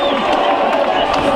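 A football crowd at the Lamb roars and cheers a Tamworth goal against Nuneaton Town as the scorer celebrates in front of the away dugout, a dense, steady wall of crowd noise with a commentator talking over it.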